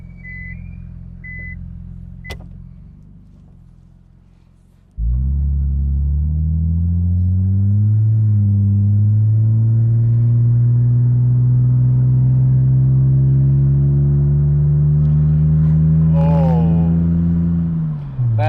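A 1998 Nissan R34 Skyline 25GT coupe's engine revs up steadily after a short idle, a loud, close, sustained drone climbing in pitch with an added harsh noise, then dropping off at the end.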